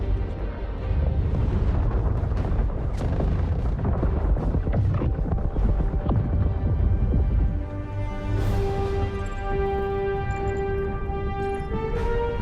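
Gunfire and heavy explosions from an Idris warship in Star Citizen, a dense, continuous barrage of booms and cracks that rumbles loudly throughout before easing into a steadier droning hum.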